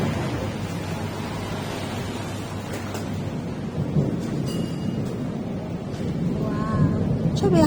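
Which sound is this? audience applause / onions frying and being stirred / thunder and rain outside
thunder and rain outside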